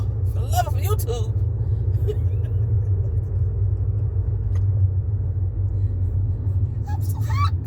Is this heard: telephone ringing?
no